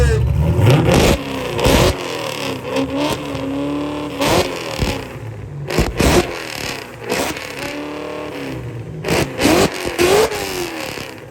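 Car exhaust at a Foxtober Fest exhaust competition, loud close revs rising and falling in repeated bursts with idle gaps between, plus crowd noise and a little talk.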